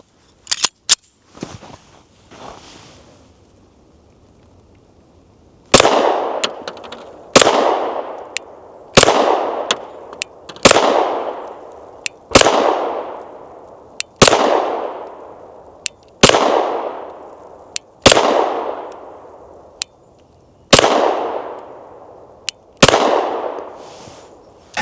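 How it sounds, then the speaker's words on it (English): Pistol shots from a Rost Martin RM1C ring out one at a time at a steady, evenly spaced pace after a few earlier handling clicks, each loud crack followed by a decaying echo. "let's see what the first shots of this Rost Martin are like"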